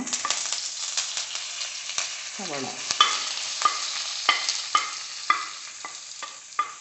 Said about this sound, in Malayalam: സവാള ഒന്ന് ചെറുതായിട്ട് മൂത്ത് വരട്ടെ